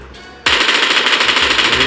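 A rapid, loud burst of automatic gunfire in PUBG New State starts abruptly after a brief quiet moment and runs continuously as one close, sustained stream of shots.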